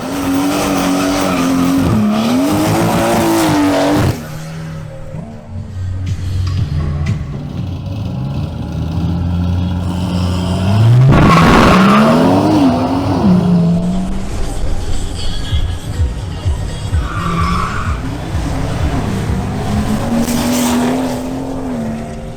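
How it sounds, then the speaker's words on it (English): Two BMWs, an X3 M40i and an M240i, drag racing: loud engines revving and rising through gear changes, with tire squeal and roaring passes up close. "We now have a duel between Stick Gonzalez in his BMW X3 M40i versus Andres Ozer in his BMW M240i."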